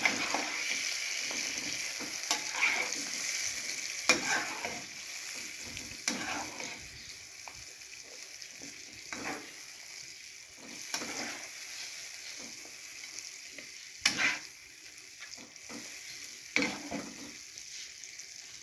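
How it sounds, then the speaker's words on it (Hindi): Spice masala mixture for sobat being stirred in a hot pan, steady sizzling and frying with repeated scraping strokes of a spoon at irregular intervals, close and moderately loud, with no talking. "अब करूंगी इसको मिक्स।"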